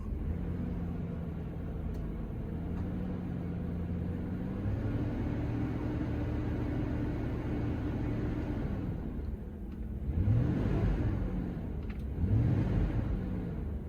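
A car engine idles with a steady low rumble, then revs up twice near the end, each rise swelling and falling back, heard alone during an oxygen sensor check.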